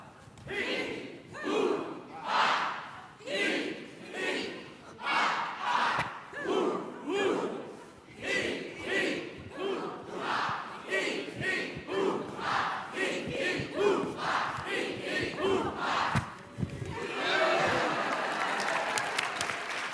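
An audience at a motivational seminar shouts loud chants, with repeated rhythmic bursts of massed voices following one another, then breaking into sustained cheering and applause near the end.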